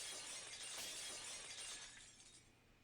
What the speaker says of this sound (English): That unpleasant piercing sound of shattering glass.